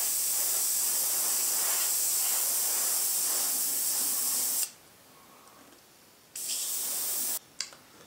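An airbrush sprays paint onto a scale model of the shuttle Galileo, a steady loud hiss that cuts off abruptly midway, then returns in two short bursts separated by near silence.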